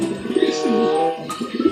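Racing pigeons cooing close by, low throaty warbling coos in overlapping phrases, steady and fairly loud, with a soft rustle partway through.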